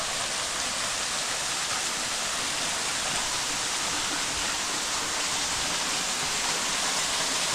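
A small waterfall just off a cycling trail roars in a dense, steady rush of falling water, loud and close, unbroken throughout with no voices.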